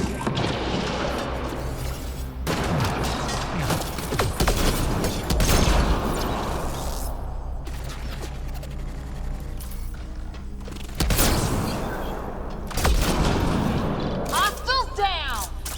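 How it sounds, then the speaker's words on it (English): Sci-fi weapon fire in the shooter Mass Effect: Andromeda, with a volley of shots, booms and mechanical clatter mixed with game dialogue and talking, dense and continuous throughout. "now I can shoot 4 bullets"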